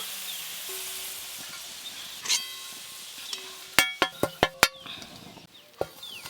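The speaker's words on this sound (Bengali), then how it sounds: "বেরেস্তাগুলো ভাজা হয়ে গেল, এবার তুলে নেব" Sliced onions sizzle steadily in hot oil as they crisp into beresta for a katla fish dish, then a quick run of sharp metal clinks and scrapes sounds close as a utensil works the pan.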